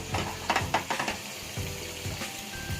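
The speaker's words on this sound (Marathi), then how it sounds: "हे दोन मिनटं छान मस्त मसाल्यामध्ये कोट होऊ दे एक छान त्याला उकळी येऊ दे" A thick pomfret fish masala curry bubbles and sizzles in a pan, with several soft popping bursts early on, then a gentler steady simmer.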